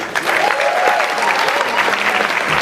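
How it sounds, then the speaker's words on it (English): Audience applause fills a hotel ballroom during a tribute concert, a dense, steady wash of many hands clapping at full volume for nearly three seconds, with a faint whistle or cheer rising briefly above it. "Give him a round of applause."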